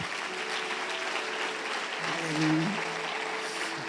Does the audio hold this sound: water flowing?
no